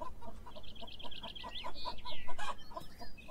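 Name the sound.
chickens clucking in video game Beyond Eyes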